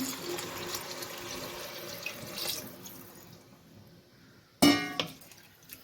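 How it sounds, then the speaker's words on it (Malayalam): Water pours into a pressure cooker of paneer biryani, a steady splashing wash that thins out before a sudden louder splash and clatter near the end. "ഈ ഞാൻ പറഞ്ഞ അനുസരിച്ചുള്ള അളവിനുള്ള വെള്ളം ഞാൻ എടുത്തു വെച്ചിട്ടുണ്ട് അത് ഒഴിക്കാൻ പോവാണ്"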